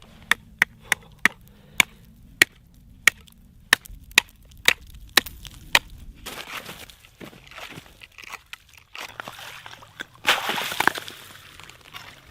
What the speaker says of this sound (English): We're going to have to crack the surface of this lake to get to the water underneath